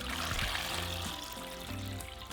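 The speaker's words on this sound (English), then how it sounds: "Now we're just going to add enough water to cover them." Water pours steadily into a pot of tomatillos and serrano chiles, a close, continuous splashing trickle that lasts for the whole moment with no voices.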